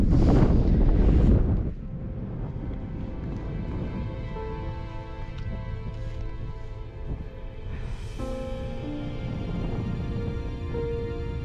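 Gusty wind at a mountain lake, 1691 m, buffets the microphone, loud at first then settling into a steady rushing roar with faint tonal hum beneath.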